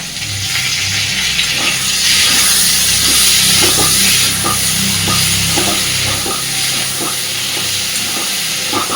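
Slit green chillies and chopped tomato fry in a pan of vegetarian potato and pointed gourd curry, giving a loud, continuous sizzle and hiss with soft scraping stirs running through it.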